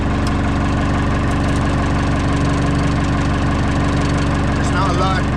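A Bobcat E10Z micro digger's small engine idles steadily and close by, a dense continuous drone with a faint voice over it.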